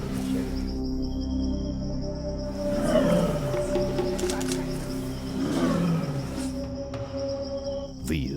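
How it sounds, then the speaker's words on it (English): Kankati, a tigress in Bandhavgarh, gives low, drawn-out rumbling roars in two broad swells over a steady drone of insects. "Kankati's roars can often be heard in the Chakradhara and Churbera areas of Bandhavgarh"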